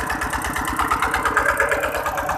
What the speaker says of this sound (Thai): มันติดเครื่องแล้วนะครับนี่